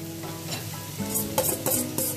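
Pepper offcuts sizzle in a frying pan for stuffed vegetables, a steady hiss with a few brief louder spits and scrapes of stirring, close and without voices.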